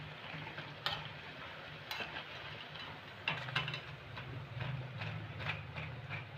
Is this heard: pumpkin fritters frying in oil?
yes